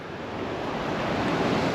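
Sea surf rolls at Mirror Beach in Sarandë, Albania, a steady, loud wash of waves mixed with wind noise on the microphone, continuous and without voices.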